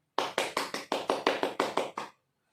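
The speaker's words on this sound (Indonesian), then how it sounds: "beri tepuk tangan untuk Doni dan Sinta karena telah berani untuk mengemukakan pendapat dan jawabannya." Classroom students clapping their hands together in unison, about nine even, crisp claps in a quick steady rhythm, close and clear, ending abruptly into silence.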